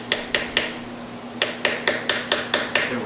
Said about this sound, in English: We're going to try and slip the chisel just underneath the edge